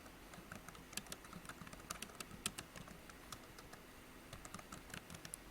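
Quiet typing on a computer keyboard, a steady run of soft, uneven key clicks heard up close against faint background hiss.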